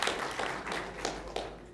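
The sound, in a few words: audience applause for staff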